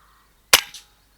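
A single sharp crack from a Precihole spring airgun fired at a rabbit at dusk, close and loud with a brief echoing tail fading in under a second.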